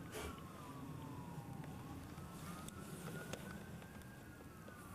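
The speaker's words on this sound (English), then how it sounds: "I hear sirens." Emergency vehicle sirens wail outdoors at night on a snowy January evening, faint and distant, their tones sliding slowly up and down over a low background hum.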